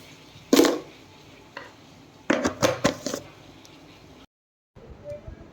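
A spoon adds coarse-grained sugar to tea in a glass, giving a few quick clinks and scrapes in two short bursts with quiet pauses between, close and fairly soft.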